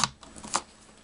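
Paper cover for a mini album being cut to size, two or three quick crisp snips or slices close up, brief and alone.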